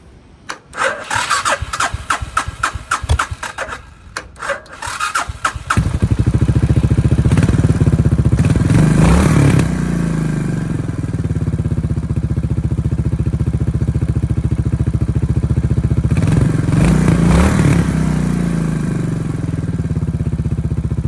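A Suzuki Savage motorcycle engine, just after its carburetor was cleaned and tuned, cranks with a few stuttering attempts, then catches and settles into a loud, steady running note with two brief revs, close up and with no talk.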